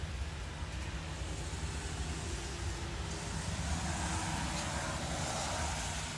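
Steady road traffic from passing cars during a tornado-warned severe thunderstorm, a continuous low rumble and hiss that stays fairly loud and even throughout, with no clear gaps between vehicles.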